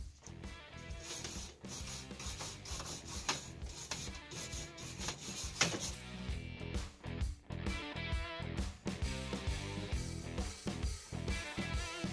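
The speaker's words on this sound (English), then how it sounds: "I'm gonna run it over with this wire brush to get off any loose dirt and rust" A wire brush scrubs loose dirt and rust off an old weight bench, giving a continuous, close, busy scraping and rasping with uneven strokes and brief pauses, heard alone.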